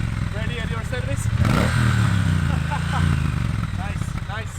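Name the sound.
Triumph Bonneville T120 motorcycle engine revving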